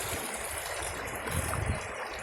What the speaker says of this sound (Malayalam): ഇതൊരു ചെറിയ തോടാണ് കേട്ടോ. മലമുകളിൽ നിന്നും ഒഴുകി വരുന്ന വെള്ളമേ ഈ തോട്ടിലൂടെ കൃഷി സ്ഥലത്തേക്കാണ് പോകുന്നത്.